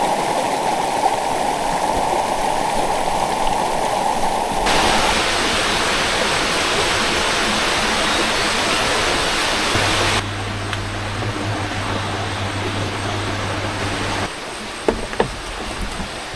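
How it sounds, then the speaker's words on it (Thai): A stream flows beside a riverside rental tent site in Suan Phueng, Ratchaburi, with steady, close rushing and babbling water. The wash continues throughout with slight shifts in tone and no voices. "เสียง น้ำ ไหล ผ่านลำธาร"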